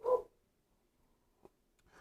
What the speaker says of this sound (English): I wonder if everyone can hear my dog freaking out.